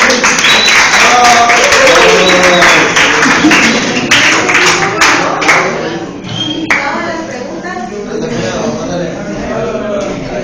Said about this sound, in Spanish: un aplauso para el equipo, por favor